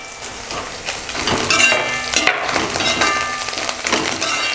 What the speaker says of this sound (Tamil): இப்போ இதெல்லாம் லைட்டாக வதங்கினதும் இதில் வந்து கொஞ்சம் மல்லி இலையும் போட்டு வதக்கிடலாம்